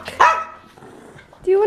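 A pet dog gives a couple of short, loud barks at close range in a cozy home room, with a voice talking to it around the barks.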